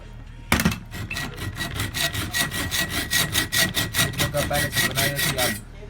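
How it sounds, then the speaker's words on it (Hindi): A hand saw cuts through a Diana airgun sight part, with rapid, even back-and-forth strokes rasping for about five seconds. The sound is close and loud and stands alone without talk. "हम इसको काट लेते हैं। आरी के साथ काट लिया।"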